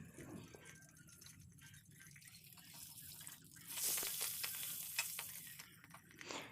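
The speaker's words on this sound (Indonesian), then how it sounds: "Ini saya lanjutkan menggoreng telur ayam." Steady crackling sizzle of chicken eggs frying in hot oil, with a louder burst of spattering partway through, close and continuous without any talking.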